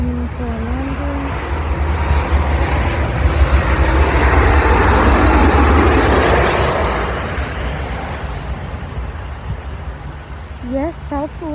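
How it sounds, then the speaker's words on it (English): A Southwest 737 airliner approaching to land at Midway airport, its engine roar swelling from afar to a loud broadband rumble mid-clip and then fading, with brief talk at the start and end. "Here comes another aircraft coming for a landing."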